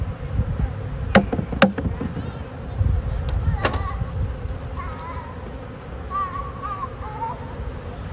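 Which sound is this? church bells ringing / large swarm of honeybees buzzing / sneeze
large swarm of honeybees buzzing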